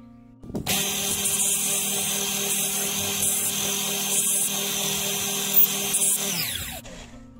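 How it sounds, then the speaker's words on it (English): Steady power-tool whine runs for about six seconds near the mic and then winds down, heard during work cutting wooden doweling off an antler whistle, with no one talking. "when I started to saw the doweling off, it didn't start moving around"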